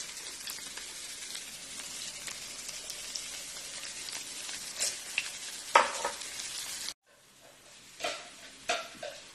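Garlic sizzles in hot sunflower oil with a crackling, rain-like fry, sharp pops and stirring scrapes, then cuts out briefly before softer spitting returns.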